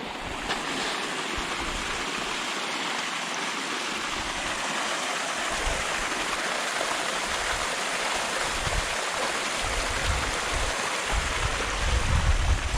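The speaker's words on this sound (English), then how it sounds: "The attraction that running water has for mankind." Running water of a stream flowing down a kloof, a continuous broad rushing wash, steady and moderately loud, with gusts of wind on the microphone toward the end.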